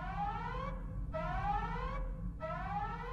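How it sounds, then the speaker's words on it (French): A spaceship self-destruct alarm whoops in repeating rising sweeps, three electronic wails over a low steady hum, rhythmic and unaccompanied by talk. "l'alarme se déclenche dans le vaisseau, vous indiquant que le compte à rebours pour l'autodestruction du vaisseau a été déclenché"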